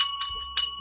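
Small bell rung in celebration during a live chat show, two quick bright rings over a steady high tone, close and clear with no talk.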